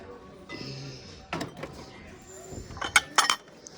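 A few scratched John Deere bowls clink and knock together as they are handled on a thrift store shelf at Goodwill, with sharp ringing taps near the end and some faint background noise.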